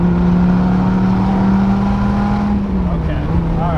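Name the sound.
sports car downshifting and accelerating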